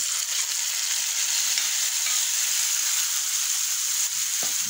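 Chopped tomatoes hit hot oil in a frying pan, giving a steady, bright, close-up sizzle that holds evenly throughout.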